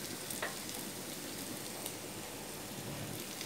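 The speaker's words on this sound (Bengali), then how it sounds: "এখন এটার সাথেই আমি মরিচ এবং পেঁয়াজগুলো দিয়ে নিচ্ছি।" Chopped chilies and onions are tossed into a pan and mixed, a quiet continuous crackling sizzle with faint scraping, close and low in level.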